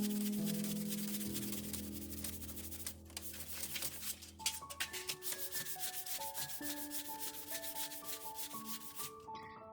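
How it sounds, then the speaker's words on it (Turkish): Rhythmic rubbing strokes of sandpaper scraping paint off a thin piece of cut tin, fairly quiet and steady with a brisk back-and-forth pattern. "Makasla kestikten sonra zımparayla temizliyorum boyalı kısımları."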